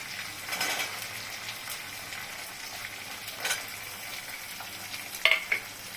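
Green peas go into a pan of frying egg curry, and a steady sizzle runs under repeated scraping and clicking stirs of a spoon against the pan, near and clear.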